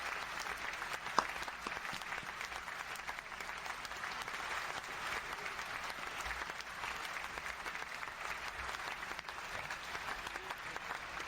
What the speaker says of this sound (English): Can we get a round of applause for Jordan for putting up with her?